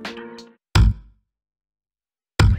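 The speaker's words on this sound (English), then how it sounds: "The left hand slap involves swiftly striking the strings to create a dead or muted sound like this." Two sharp, percussive muted thumps of a left-hand slap on dead bass guitar strings, each a short broadband hit with a quick decay, separated by a long gap and preceded by a brief ringing note.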